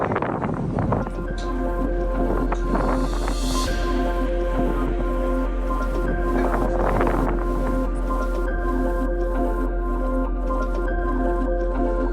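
Steady wind rushes and buffets across the microphone at Hurricane Ridge in Olympic National Park, a constant roar with a low hum beneath and occasional gusty swells.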